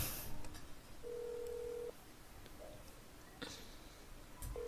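In the video game That's Not My Neighbor, a telephone plays a steady dialing tone, then falls quiet, followed by faint brief beeps and clicks at low level.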